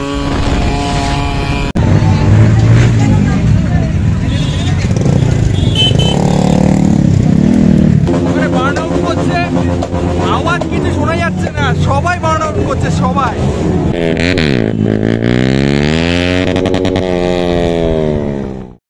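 Superbikes gather at the Azad Hind Dhaba meetup on Independence Day, engines loud and close, revving in rising and falling pitch sweeps with several overlapping throttle blips and a long climbing rev near the end.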